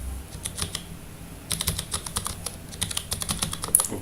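Rapid keystrokes on a computer keyboard as a sheet name is typed in Microsoft Excel 2013, clicking in irregular bursts with brief pauses, close and moderately quiet with no talking.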